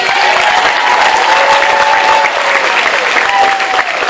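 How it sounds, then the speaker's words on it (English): A crowd at a Realms Con 2017 convention Q&A panel in Corpus Christi, Texas, gives loud, steady applause filling the room, with a few cheers mixed in. "Can we give a big round of applause to Briana?"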